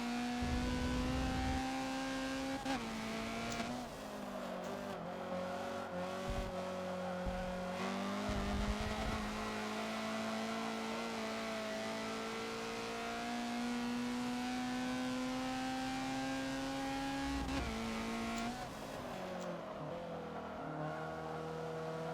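A Honda CRX race car engine in Forza holds a steady, droning tone with small pitch shifts as the throttle eases and picks up again, loud and continuous on a night run around Le Mans.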